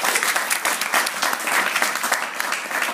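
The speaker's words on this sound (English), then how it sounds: "Danish Parliament member, Liv Andersen, we definitely need to give her a round of applause." Dense audience applause at an event honoring a young newly elected Danish Parliament member, steady close clapping from a large crowd throughout.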